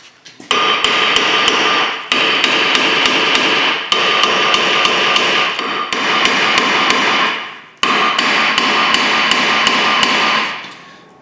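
A hammer strikes the old front brake rotor on a Toyota Camry in loud, rapid metallic blows, delivered in about five bursts of quick repeated hits with short pauses between, ringing sharply with no talking.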